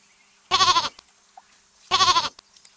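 A goat bleats twice, two short wavering calls about a second and a half apart, clear and close with quiet in between.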